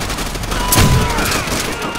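Gunfire in the video game Call of Duty: World at War: a short, loud burst of shots hits around the middle, over a dense battle din with faint talk around it.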